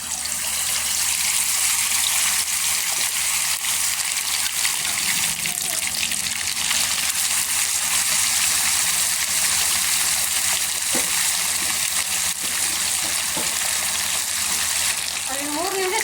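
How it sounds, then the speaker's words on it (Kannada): Mackerel (bangude) fish coated and frying in hot oil, a dense, steady sizzling hiss that stays loud and unbroken throughout, with faint kitchen sounds beneath. "ಎಣ್ಣೆ ಕಾದಿದೆ, ಮೀನು ಹಾಕ್ಕೊತಾ ಇದ್ದೀನಿ"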